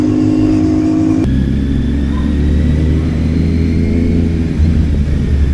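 Kawasaki Z900 inline-four motorcycle with an Akrapovič exhaust, a loud, close, sustained engine drone with a deep rumble, holding a higher rev at first before dropping to a lower steady tone, no talk.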